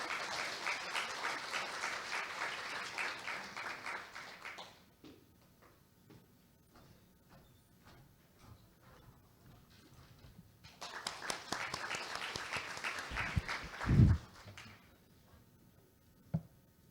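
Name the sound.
audience applause welcoming a speaker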